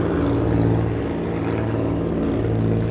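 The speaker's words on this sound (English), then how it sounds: "We've got a plane going by" A propeller airplane passes overhead outdoors during a woodland foraging walk in Florida. Its engine drone is steady and broadband and fills the whole stretch at moderate loudness, with no talk over it.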